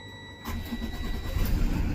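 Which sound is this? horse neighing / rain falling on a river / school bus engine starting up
school bus engine starting up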